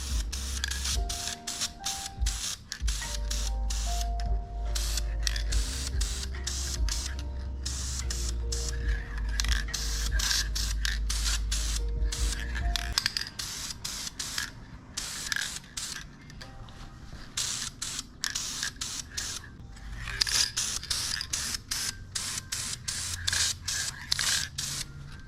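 Blue spray paint goes onto a street car motor in a second coat, with repeated short hissing bursts from the can alongside clicks and mechanical rattles, and no talking.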